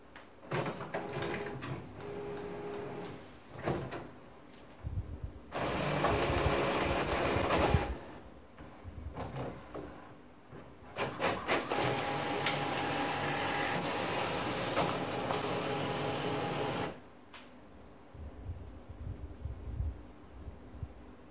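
An HP Officejet Pro 7740/8740 inkjet printer printing an A4 document fed from tray 2, with short mechanical whirs and clicks, then two long loud stretches of feeding and printing noise separated by quieter pauses.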